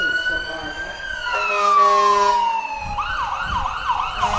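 A county emergency medical services truck runs its siren in a Memorial Day parade, a loud, near wail that sweeps down and then breaks into fast yelping cycles over street crowd noise.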